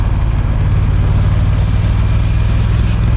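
A BMW F900R motorcycle at speed on the Pacific Highway motorway, a steady loud roar of engine and wind that holds constant throughout.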